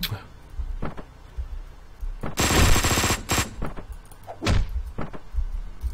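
Gunfire in the top-down action game Hotline Miami 2: Wrong Number, a couple of scattered single shots followed by a loud, rapid automatic burst and more isolated shots close up.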